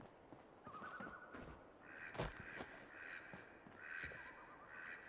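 Birds cawing in the Fallout 4 video game, repeated harsh calls at moderate distance over a quiet ambient background, with a sharp knock partway through.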